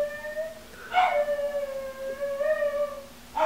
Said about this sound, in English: Now Harley's howling.